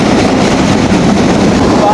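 A local train in Bangladesh pulls into Sundarpur railway station with a loud, continuous rumble and rattle of carriages, heard close up from on board with wind buffeting.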